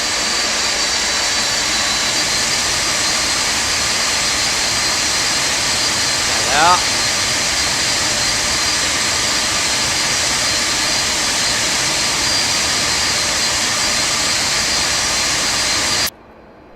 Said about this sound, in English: the engine sounds, if you've not seen me take off in this aircraft before, are just phenomenal